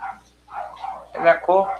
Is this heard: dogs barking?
yes